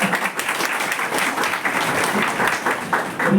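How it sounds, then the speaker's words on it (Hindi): An audience of students at an embryology lecture breaks into applause, many hands clapping in a dense, continuous burst that holds at a fairly loud level throughout. "बजाओ बजाओ ताली बजाओ।"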